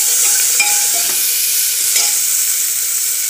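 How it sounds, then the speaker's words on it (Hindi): Ginger garlic paste and green chilies fry loudly in a pan for arhar dal with cauliflower, giving a dense continuous sizzle with a couple of faint stirring knocks. "अब थोड़ी देर इसको हम गला गला के फ्राई करेंगे जब तक ये ब्राउन ना हो जाए।"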